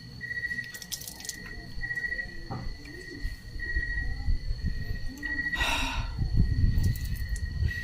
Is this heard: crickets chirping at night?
yes